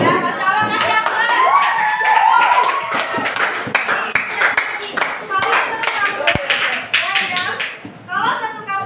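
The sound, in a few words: class applause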